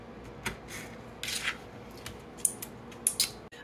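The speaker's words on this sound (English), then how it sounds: "I'm taking half a tomato, just going to cut that up in fine pieces" A knife cuts half a tomato into fine pieces on a board, giving a handful of sharp, irregular chopping taps and soft slicing scrapes, close and fairly quiet with no talking.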